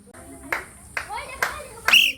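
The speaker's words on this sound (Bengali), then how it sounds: "মিমের জন্য করো তালি" During a blindfolded children's game, a small group claps in short bursts, four distinct volleys spaced about half a second apart, close and fairly loud, with a voice calling over them.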